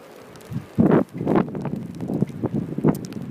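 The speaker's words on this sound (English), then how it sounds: "It's getting really windy," Strong wind from the winter storm Jonas buffets the microphone in irregular roaring gusts, loud and close, alone without speech.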